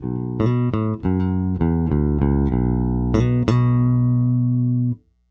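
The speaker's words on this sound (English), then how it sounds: "I don't find the single coil tap to be very useful when it comes to bass" Low-pitched notes from an Eastwood Hooky Baritone Pro guitar played singly in a steady bass line, a thinner single-coil tapped tone with plucked attacks, close and clear.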